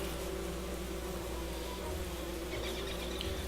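Steady insect buzzing from bees swarming around hives in the survival game Don't Starve, a continuous faint drone with no talk over it.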